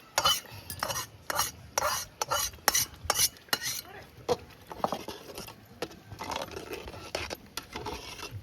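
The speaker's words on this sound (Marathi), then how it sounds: "आता सगळा मसाला आणि वाटण परतून आता आपण शिजायला घातले" Fried masala and ground paste for a village-style chicken curry stirred in a pot with a spoon, giving rhythmic scraping and patter strokes over a light sizzle, close and steady with no voices.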